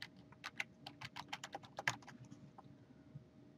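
A site number typed on a computer keyboard, a quick run of about a dozen crisp, close key taps in an uneven rhythm, quiet overall and tapering off into near silence.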